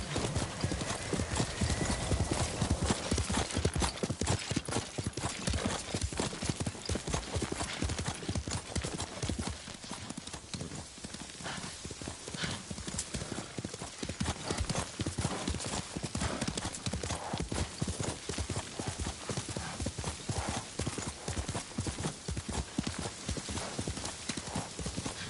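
Horse hooves gallop steadily in Ghost of Tsushima, a fast, continuous clip-clop rhythm at close range throughout, with a brief whinny and faint game sounds beneath.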